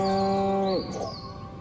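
A cow moos in the 2020 video game Destroy All Humans!: one long, loud, low bellow that holds steady, then bends downward and trails off into a quieter breathy tail.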